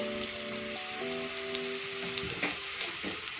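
Coriander powder and spices sizzle in a hot pan for farali khichdi, a soft continuous frying crackle broken by a few light stirring clicks and scrapes close by.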